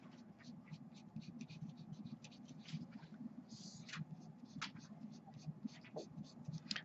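A pencil point shading on paper gives a soft, steady scratchy rasp of quick repeated strokes, close and quiet, with no talking.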